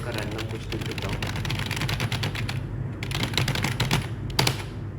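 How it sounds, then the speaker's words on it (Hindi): Rapid typing of random text on a computer keyboard, a dense run of close clicks and key taps over a low background hum, with a louder tap near the end. "जैसे कीबोर्ड का रैंडम कुछ लिख देता हूँ।"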